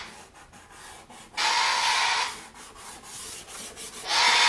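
The side of a soft pastel stick is rubbed back and forth on paper, producing close, dry scratchy strokes in two louder bursts separated by lighter grainy rubbing.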